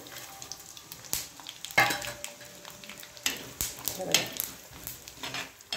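Grated coconut and garam masala roast in a pan with a soft, low sizzle, broken by a few sharp clinks and scrapes of a spoon against the pan.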